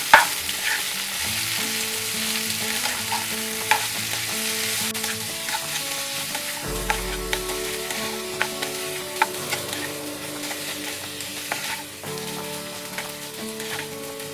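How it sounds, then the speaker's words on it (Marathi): Potatoes stir-fry in a pan over a low flame with salt and a little sugar, giving a continuous sizzle broken by regular clinks of a spatula scraping and turning them, with faint tonal background sound. "आता ह्यात चवीनुसार मीठ, थोडी साखर ही घालून छान असं परतून घेऊया."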